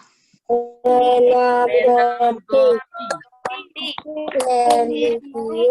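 Children in a school class chant a clapping rhyme together, their loud sung voices carrying a few sharp hand claps mixed in.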